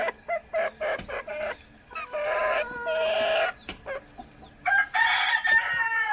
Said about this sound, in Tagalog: dalawang manok nakahingi ako sa kapatid ko